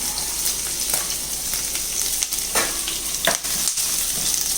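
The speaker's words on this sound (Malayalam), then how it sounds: "ഇനി നമുക്കിതിലേക്ക് ഒരു 3 അല്ലി വെളുത്തുള്ളി ചെറുതായിട്ട് അരിഞ്ഞത്, 2 പച്ചമുളക് ചെറുതായിട്ട് അരിഞ്ഞത് ഇട്ട് കൊടുക്കാം." Chopped garlic and green chillies fry with peanuts in hot oil, giving a steady, close sizzle with a few brief stirring scrapes and clatters, no voices.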